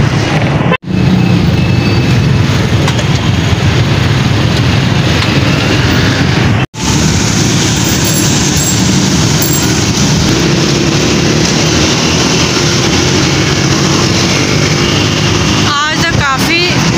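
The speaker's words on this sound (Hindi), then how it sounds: "हम अपनी बाइक पे जा रहे हैं" A motorbike rides through heavy traffic, giving a loud continuous engine and road roar with wind buffeting and two brief dropouts, with no voices.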